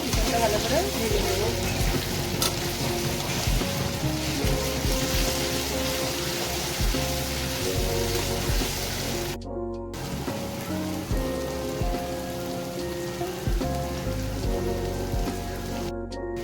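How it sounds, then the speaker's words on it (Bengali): Garlic frying in a pan of browned onions, a dense rain-like sizzle with a sustained tonal hum beneath, broken by two short gaps. "রসুনটা ভালো করে ভেজে নেব"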